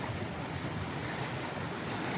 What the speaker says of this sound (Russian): А чуть дальше выйдешь в море, и ветер встречный.